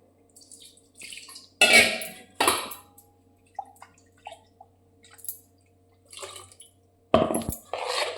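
Idli batter being stirred with water in a bowl by hand, heard as intermittent wet squelching and slopping bursts, a few of them sharp and loud, separated by quiet pauses.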